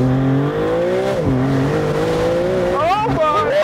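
A Maserati MC20 Cielo launches hard under launch control, its engine note loud and close, rising steadily through the gears with a sharp upshift climb near the end, while an excited voice talks over it.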